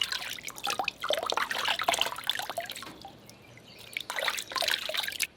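Water trickling and splashing as honey-coated bees are rinsed off by hand, a close, soft, uneven stream with brief pauses and no talk.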